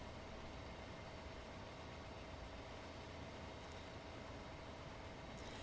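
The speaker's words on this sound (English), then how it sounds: "Let's do a British freight train." A British freight train hauling petroleum wagons in a train simulator game, heard as a steady, loud, continuous rumble and engine drone with no pauses, ending with faint high squeals.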